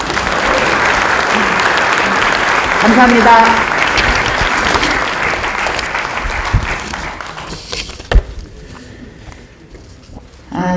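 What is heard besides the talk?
audience applause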